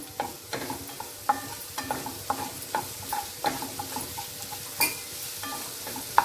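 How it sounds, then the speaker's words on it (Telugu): Ginger garlic paste sizzles in a little oil while a spoon stirs it, with steady frying hiss and regular close scrapes and clinks against the pan, no voices. "ఈ అల్లం వెల్లుల్లి పేస్ట్ కూడా కొంచెం నూనెలో వేగనిద్దాం."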